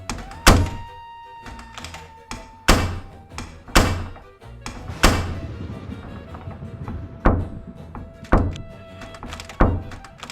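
A radio-show sound effect of a door repeatedly swinging open and shut, with a series of sharp wooden thunks and knocks spaced irregularly, each ringing briefly before the next bang.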